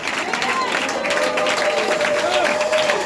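Congregation at a church service applauding and cheering continuously, a dense crowd roar with a sustained voice or tone running through it.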